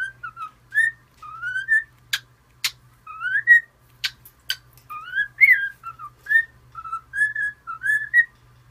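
Boy whistles a song in short melodic phrases, close and clear, with two crisp snaps punctuating the tune and a faint low hum underneath.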